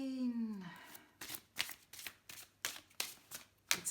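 Witch's Wisdom oracle cards being shuffled, a series of quick riffling bursts in a steady rhythm, close and fairly faint, after a short vocal sound at the start.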